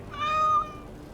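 A single cat meows in the Dragon Age: Origins – Awakening video game, one clear, drawn-out, tonal call lasting about half a second, alone and close.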